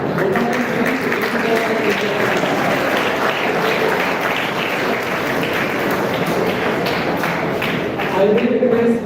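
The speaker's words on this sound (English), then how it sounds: "Big round of applause for both these." Sustained applause from a large audience at an academic event, a dense, steady roar of clapping that holds for several seconds, with a voice faintly underneath.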